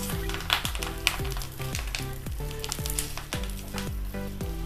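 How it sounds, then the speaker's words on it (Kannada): Fish wrapped in banana leaf fries in a hot pan, a loud, close, continuous sizzle and crackle over a low steady hum from the stove, with no talking. "ಈಗ ನಾವು ರೆಡಿ ಮಾಡಿರೋಂಥ ಮೀನನ್ನ ಇವಾಗ ಈ ಕಡೆ ತಿರುಗಿಸಿ ಬೇಯಿಸ್ಕೊಳ್ಳೋಣ."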